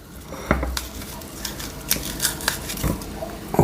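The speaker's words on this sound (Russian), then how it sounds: "Нужно аккуратненько вот этой ложкой сделать чашку такую из луковицы. Вот что я сейчас и пытаюсь" A dessert spoon scrapes and scoops out the inside of an onion to form a cup for a homemade cough remedy, making close, quiet scratchy clicks and soft taps in an irregular rhythm.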